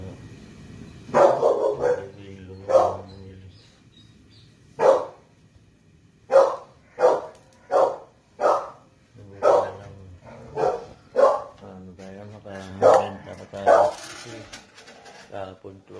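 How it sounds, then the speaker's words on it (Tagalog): A pet dog barks again and again at close range, loud sharp barks coming in uneven bursts with short pauses between them. "Yan yung aso ko."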